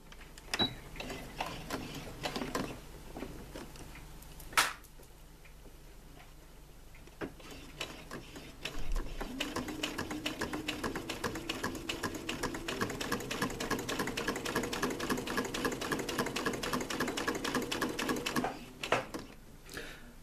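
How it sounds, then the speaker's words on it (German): A sewing machine stitches a fabric shopping bag, starting with a few scattered clicks and thumps of positioning, then running in a long steady rapid whirring rattle before stopping with a final clack. "Fange jetzt an hier zu nähen. Und zwar so, dass der Fuß hier am Rand ist."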